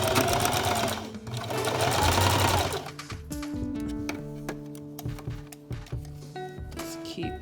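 A sewing machine stitches a seam on newborn baby pants, running a short stretch and then backstitching: a fast, close mechanical whirr, a pause, then quicker ticking and clicking bursts of the needle.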